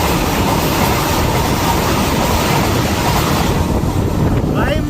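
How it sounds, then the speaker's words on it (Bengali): India's Vande Bharat sleeper train pulls out of Aluabari Road Junction, a loud, steady rumble of the rolling train mixed with heavy wind buffeting that continues without a break. "আমাদের ট্রেন আলুয়াবাড়ি রোড জংশন ছেড়ে ডিপার্চার নিচ্ছে।"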